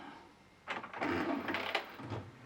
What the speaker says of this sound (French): L'alignement va se faire.